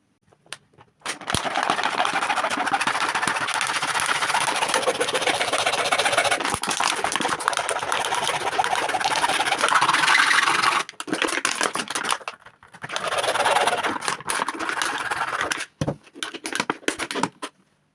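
A power tool cuts beneath the collar of a door security part in long, steady, loud bursts of harsh grinding, broken by short pauses and a few clicks, with no talking.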